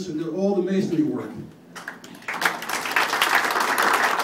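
Someone speaks briefly at an inn's opening introduction in Peekskill, New York, then a crowd breaks into steady applause, many hands clapping loudly and continuously to the end.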